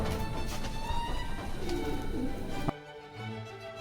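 Foreign-breed pigeons coo at a pigeon farm, their soft calls close and continuous before the sound cuts abruptly to a quieter scene.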